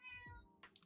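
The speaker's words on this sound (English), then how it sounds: "Sorry, that's my cat." A house cat gives a single close, clear meow with a falling pitch, followed by a short rustle and faint soft noises.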